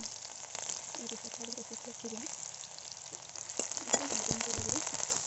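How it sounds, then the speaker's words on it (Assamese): Onions sizzle in hot oil in a wok at a low, steady level, a faint continuous frying hiss with occasional stirring clicks toward the end. "ইয়াতে মই দিছোঁ পিঁয়াজখিনি অলপ ৰঙচুৱালৈকে ভাজি লওঁ"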